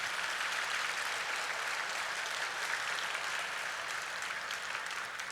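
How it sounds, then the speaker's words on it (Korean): A church congregation applauds to encourage missionaries, producing a continuous, even roar of many hands clapping for over five seconds, fairly distant and with no talking over it. "한번 큰 격려의 박수 해주시기를 바랍니다"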